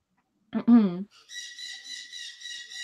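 Agitated birds squawk outside a house, a run of harsh, high, repeated calls following a brief burst of human voice at the start.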